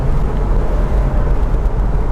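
A Porsche Boxster S (986) engine roars in a steady, loud drone, with deep rumbling tones and continuous mechanical noise.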